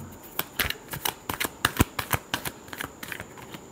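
Tarot cards being shuffled by hand, a quick run of crisp riffling snaps and flutters in an irregular rhythm, close and clear with no talking.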